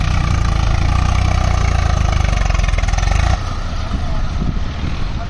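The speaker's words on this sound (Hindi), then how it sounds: "आ गया भाई ट्रैक्टर।" Swaraj 855 tractor engine running steadily near a loader job with a trolley, a loud low diesel throb that holds constant and drops slightly in level after about three seconds, continuing alone without talk.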